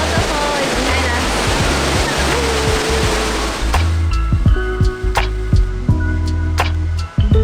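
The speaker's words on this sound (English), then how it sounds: "So we are here at the Shifen waterfall." Shifen waterfall pouring with a loud, steady broadband rush that dominates the first half, then recedes under scattered clicks and nearby voices talking.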